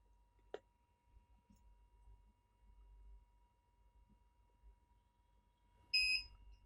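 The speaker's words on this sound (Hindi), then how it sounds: "ये बजर आ गया।" BGA R4860 rework station buzzer sounding once near the end as a short, bright electronic beep after the board reaches temperature, loud against a quiet room with faint ticks earlier.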